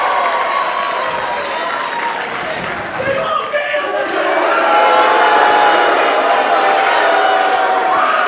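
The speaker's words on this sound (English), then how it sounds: "Listen to that roar." At a live pro wrestling event in Perth, a packed crowd roars and cheers in a constant loud swell that builds in the second half, with scattered whoops and shouts and a commentator speaking over the din.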